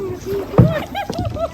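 A kayak paddle dips into the Kadamakkudi backwater during a family outing, making one short, close splash with gentle water movement, while voices talk over it.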